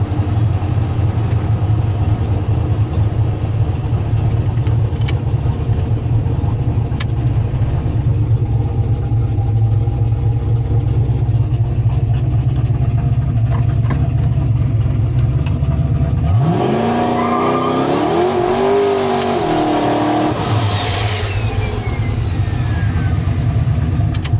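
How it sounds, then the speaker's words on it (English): A shop truck runs loud and steady along an open stretch of road, its engine note climbing into a revving burnout with tire squeal for a few seconds near the end before it settles back down. "Burnouts need a little work."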